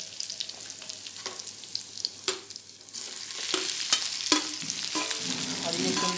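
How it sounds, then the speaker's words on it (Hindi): Finely chopped garlic frying in a pan for a Hindi home-cooking dish, a steady close sizzle with occasional stirring scrapes and spatters, no voices over it. "कली ऐसे लहसुन है, ये महीन कटे हुए, इसको भूनेंगे।"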